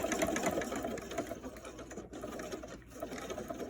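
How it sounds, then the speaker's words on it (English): A sewing machine runs close by in a steady, rapid whir, top-stitching two lines over lacing stays on a mask. It pauses briefly in the middle, then carries on stitching. "You just want to make sure that 2 lines of stitching goes over these stays"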